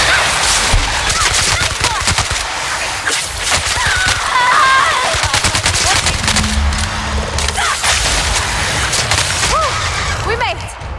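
Intense gunfire in the sci-fi shooter The Outer Worlds, loud rapid bursts and sharp shots crackling continuously throughout, with voices mixed in under the firing.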